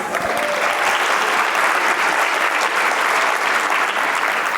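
Large audience at a healthcare quality conference breaking into loud, sustained applause, a dense continuous roar of many hands clapping at once that holds steady throughout.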